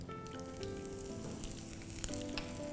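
Finely crushed green chillies sizzle in hot oil with mustard seeds and curry leaves as a tempering. The crackling and spattering is soft and continuous, with a faint tonal hum beneath it and no talking.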